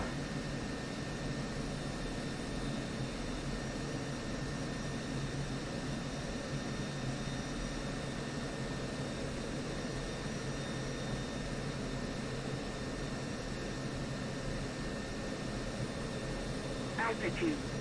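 Aircraft engines in a flight simulator game during a go-around make a steady, fairly faint broadband roar that stays even throughout, with a brief higher chirp near the end.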